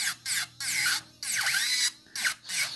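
Rechargeable nail drill fitted with a ceramic bit whirs in short high-pitched bursts, starting and stopping several times with brief pauses, close and fairly loud.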